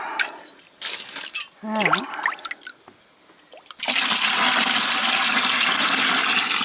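Water rushes steadily and loudly into an aerated water course, following a stretch of sparse drips and a short spoken phrase.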